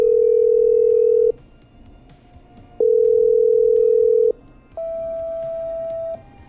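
Telephone dial tone heard while placing a call in the video game Killer Frequency: a steady ringback tone in three long bursts separated by short gaps, the last one pitched higher, clear and loud with no talking.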